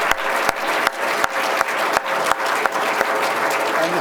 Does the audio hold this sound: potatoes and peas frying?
no